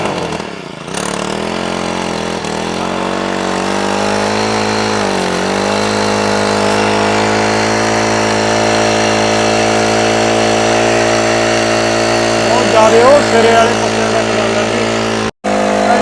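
A Raja Bhai Diamond Pro spray pump with an OHC engine runs at a steady, loud drone, with a brief dip near the start and a short cutout near the end, while a voice speaks briefly over it.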